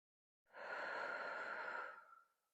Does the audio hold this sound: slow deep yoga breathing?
yes